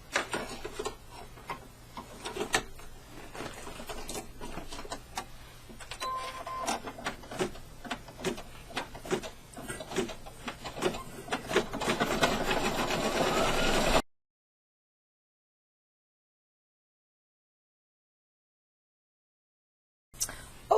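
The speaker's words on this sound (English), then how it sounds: "now for step number 9, it's going to be the satin stitch around these eyes" An embroidery machine stitches a satin stitch around the eyes of an in-the-hoop corner bookmark, giving a steady, rapid mechanical ticking that runs for about fourteen seconds, then stops abruptly into silence.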